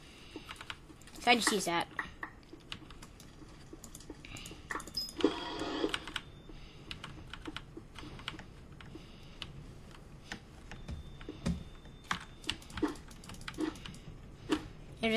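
Fast clicking on a computer keyboard during a Bed Wars game, with bursts of typing and scattered single key taps, close and crisp, while a person talks briefly.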